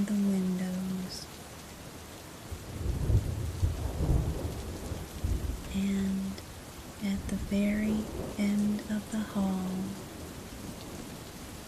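Steady rain falls outside the windows of a quiet house at night, a soft continuous wash with a low rumble of thunder, under a calm narrating voice and gentle tones.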